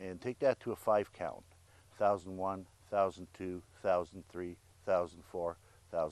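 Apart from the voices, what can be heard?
None of the usual background noises is heard.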